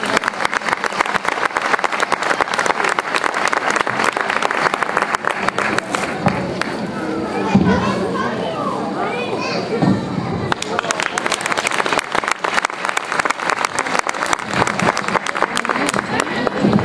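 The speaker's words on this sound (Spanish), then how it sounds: "Muchas gracias y un aplauso." Sustained applause from a concert audience after a performance of Pachelbel's Canon at a memorial concert in Dos Torres, Córdoba; dense clapping fills the room, briefly thinning in the middle before swelling again.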